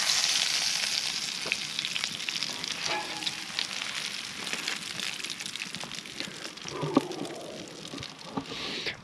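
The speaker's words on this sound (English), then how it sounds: "I'm gonna flip that steak again." Steak sizzling in a pan at a state park campsite while truck camping, a continuous crackling fry with scattered pops and a few utensil clanks, close and steady under faint outdoor background.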